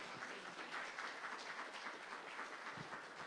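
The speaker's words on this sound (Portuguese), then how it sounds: "aplauda ao Senhor nesta manhã" A church congregation at a Baptist Sunday morning service applauds together, a steady, faint wash of many hands clapping that holds evenly throughout, with no talk over it.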